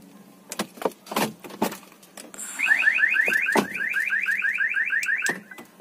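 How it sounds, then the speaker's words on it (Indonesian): A 2019 Toyota Veloz 1.5 car alarm chirps in a fast, steady series of bright repeated tones, loud and close, after a few clicks and door or key sounds. "Terus bunyi alarmnya gimana sih?"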